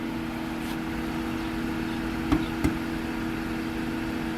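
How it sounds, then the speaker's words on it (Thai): A 2014 Honda Accord EL 2.0 idles quietly and evenly in the background, with two brief clicks or knocks partway through. "เครื่องยนต์ก็เดินเงียบมากเลยนะฮะ"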